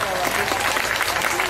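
Applause rises from an evening audience at a university gathering, brief, dense clapping at a steady level with a voice speaking over it.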